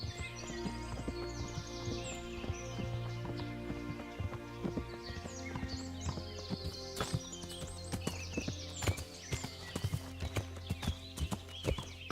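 Horse hooves clip-clopping on a path in the video game Kingdom Come Deliverance, a steady moderate rhythm of hoof strikes over layered ambient game music and faint birdsong.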